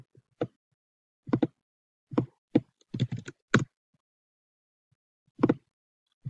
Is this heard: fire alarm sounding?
no